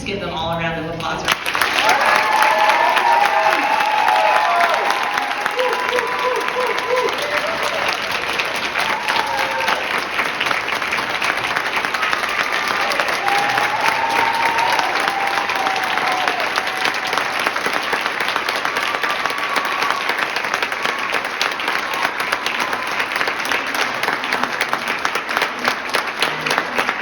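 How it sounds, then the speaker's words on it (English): An audience at an awards ceremony breaks into sustained applause, dense steady clapping that fills the whole stretch, with cheers and voices mixed in the crowd. "Let's just give them all a round of applause."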